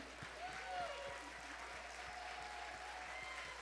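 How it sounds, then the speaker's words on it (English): Applause from an audience at a district staff holiday celebration, a steady, fairly quiet patter of clapping hands that holds evenly from start to finish. "Give her a nice round of applause."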